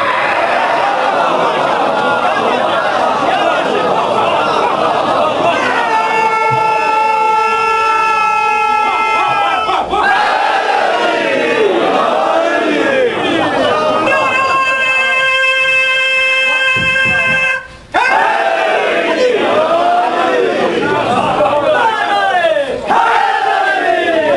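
A large crowd at a Shia majlis for Shab-e-Ashur at an imambargah repeatedly bursts into loud, rhythmic collective chanting of religious slogans, with sustained voiced calls and responses filling the hall throughout.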